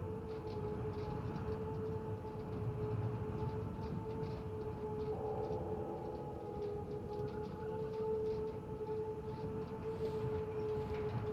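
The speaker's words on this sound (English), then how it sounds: "A siren began sounding in the distance." A distant siren wails in long steady tones over a low rumbling background, faint and sustained throughout with no voices.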